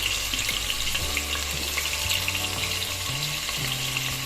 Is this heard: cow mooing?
no